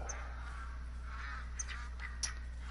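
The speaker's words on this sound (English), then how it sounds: "I'm not worried about these ducks." Faint quacking calls from ducks in a hunting video game, a few scattered calls over a steady low background hum, no talk.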